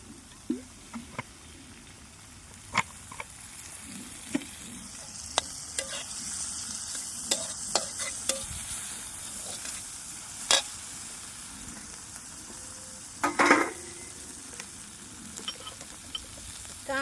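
Chopped onion fries in oil, a soft steady sizzle broken by frequent sharp scrapes and clicks of stirring, close by with no talking.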